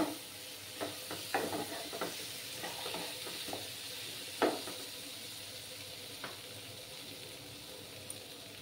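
Spice paste for a rohu fish curry with potatoes frying in a pan, a quiet continuous sizzle broken by scattered scraping and stirring clicks, close and fairly faint with no talk.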